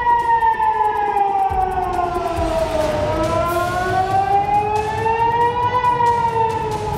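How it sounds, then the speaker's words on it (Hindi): Air raid sirens sound across Israeli cities during a missile attack, a loud, sustained wail that slowly falls and then rises again, with layered harmonics and steady background noise throughout. "इसराइल के करीब 80 शहरों में सायरन बजने लगे।"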